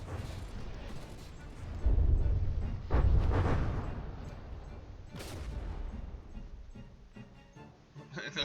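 Cannon shells fire in From the Depths, a naval combat game, as Funkrome and Danubia exchange fire in a tournament match: a few loud booming blasts over a continuous rumbling battle din.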